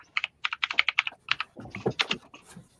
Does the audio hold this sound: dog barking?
no